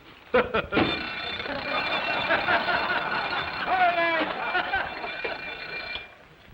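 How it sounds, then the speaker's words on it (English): A penetrating electric bell rings continuously for several seconds, preceded by a couple of sharp knocks, loud and close. "Suddenly, my attention was arrested by a bell ringing."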